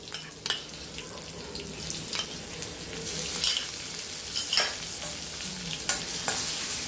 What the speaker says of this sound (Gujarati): અને બે ચમચા આદું અને લસણની પેસ્ટ નાખીશું.